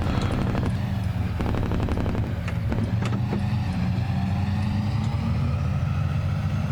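A grain truck drives in Farming Simulator on an Xbox Series S, its engine a steady low rumble throughout with a few sharp clanks and knocks over it, loud and close, no talking.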